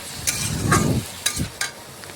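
Pumpkin stalks, ridge gourd and potato with a mustard, cumin and green chilli paste are stirred and fried in a pan, giving a soft sizzle with a few sharp scraping knocks of the spoon.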